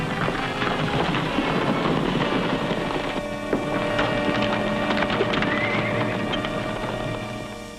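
Horses whinny and hooves clatter amid a steady rumbling background, with no voices, in the 1941 Western film Nevada City.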